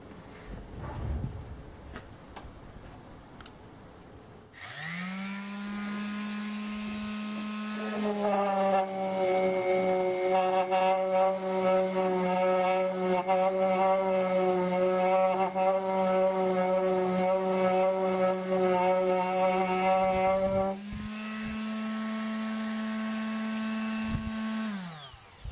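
A Ryobi detail sander with a 120 grit pad starts up, then whines and buzzes steadily against the surface for about fifteen seconds, its pitch shifting as it bites and eases off before stopping.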